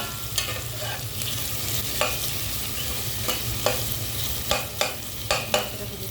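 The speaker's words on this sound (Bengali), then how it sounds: "তেলটা গরম হয়ে এসেছে, এখন দিয়ে দিব পেঁয়াজ কুচি, রসুন কুচি সব একসাথে দিয়ে দিলাম" Chopped onion and garlic fry in hot oil, a steady close sizzle with several sharp scrapes of stirring spread across it, no voices.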